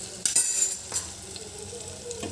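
Onions and tomatoes for a prawn curry sizzle and fry in a pan, a steady close crackle with a few stirring scrapes and utensil clinks.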